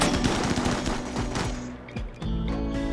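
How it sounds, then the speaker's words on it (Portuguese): Rapid automatic gunfire and scattered shots from combat in the video game Rimworld with the Combat Extended mod, loud and continuous with overlapping bursts, briefly thinning near the end before resuming. "Tiros, tiros, tiros."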